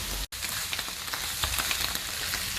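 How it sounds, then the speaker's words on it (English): Mushroom, garlic and onion sizzle steadily in a pan, a loud, continuous close-up frying hiss broken only by a split-second gap near the start. "So I'll be leaving my mushroom, my garlic and onion to cook for just 3 minutes."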